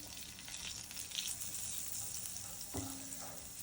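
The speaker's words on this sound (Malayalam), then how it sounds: "നമുക്ക് അതിലോട്ടൊരു ബട്ടർ ഇട്ട് കൊടുക്കാം" Butter melting in a hot pan gives a soft, steady sizzle throughout, with a brief utensil clink near the end, quiet and close, no talking.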